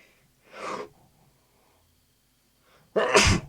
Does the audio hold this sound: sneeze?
yes